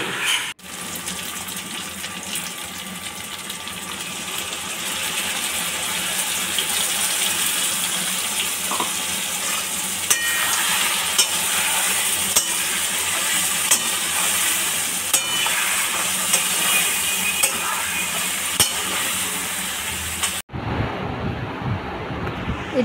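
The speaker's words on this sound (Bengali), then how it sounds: "এবার আমি কড়াইতে এটা দিয়ে কষাতে থাকবো মাংসটা।" Meat coated in a ground spice paste fries and is stirred in a wok (kadai), giving a steady, close sizzle with scraping and stirring noises that runs without a break for about twenty seconds, then cuts off abruptly near the end.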